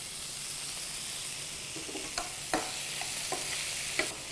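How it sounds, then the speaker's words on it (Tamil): Vegetables and tomato sautéing in a pan for bisibelebath, a steady soft sizzle with a few sharper crackles and stirring clinks near the end. "காய் நல்லா வதங்கினதுக்கப்புறம் கொஞ்சம் தக்காளி"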